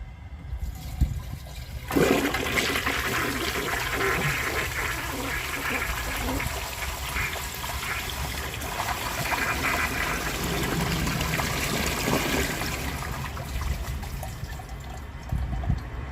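A 1953 Kohler Trylon toilet flushes a dish towel, a loud, close rush of water that surges and swirls for the length of the clip before thinning toward a trickle at the end.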